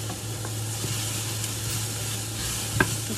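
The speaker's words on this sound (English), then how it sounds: "to fry the onion." Onion fries in coconut oil, a continuous low sizzle with a faint hum beneath and occasional light stirring taps, one sharper clink near the end, close and unaccompanied by speech.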